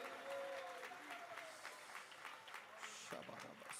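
An audience at a convention claps in welcome, a steady patter of many hands in a large hall, moderately loud at first, with a voice heard over it.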